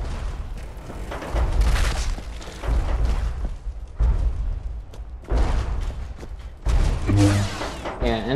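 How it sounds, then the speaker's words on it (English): Explosions and heavy booms from Fallout 4 combat with Liberty Prime robots, loud repeated blasts in bursts with rumbling between them, and a faint voice underneath at times. "Lots of explosions."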